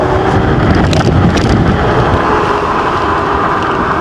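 Steady rumbling road noise from a Gleeride H7 electric scooter rolling along, with a few brief jolts and rattles as it crosses railroad tracks, wind buffeting throughout.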